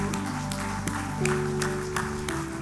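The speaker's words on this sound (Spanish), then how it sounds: "Dale un fuerte aplauso a Jesús." Congregation applauding during a church service, clapping at a moderate distance in a rhythmic pattern over sustained music.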